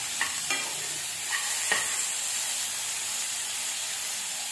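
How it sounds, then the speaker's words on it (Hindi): Onions and tomatoes fry in a pan for a masala omelette, giving a steady close sizzle with a few scraping stirs near the start. "अब हमें इसे अच्छे से फ्राई करना है।"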